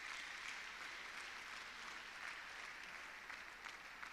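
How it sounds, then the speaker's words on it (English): Sustained applause from a workshop audience on transnational education, a steady even wash of many hands clapping at moderate distance throughout, with no voices standing out. "Give yourself a round of applause for this"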